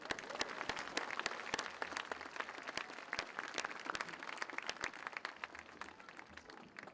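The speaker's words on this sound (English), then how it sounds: "Let's give this group a round of applause for their efforts." Graduation ceremony audience applauding a group of graduates, a faint, distant patter of many hands clapping at a steady, sustained pace.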